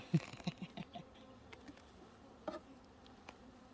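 Honeybees at a hive entrance as a sealed hive is opened, a faint, low buzzing with soft scattered thumps and no talk.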